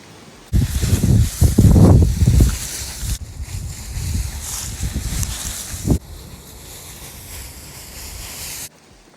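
Gusty wind roars and buffets across the microphone, loud at first and then steadier and softer, with rumbling low noise throughout.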